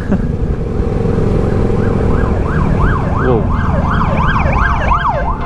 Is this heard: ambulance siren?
yes